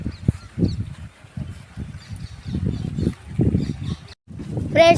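Geese and ducks honk and quack repeatedly in a noisy flock at a fish pond nearby, their calls overlapping in uneven bursts.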